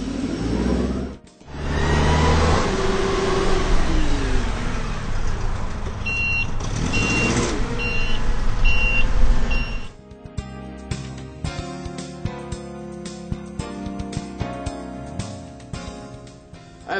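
A truck engine revs up then drops off as it brakes and shifts gears, followed by a lower, steadier idle with scattered clicks.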